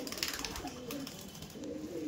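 Soft, low cooing from Kalshira pigeons repeats in gentle murmuring calls against a quiet background hiss.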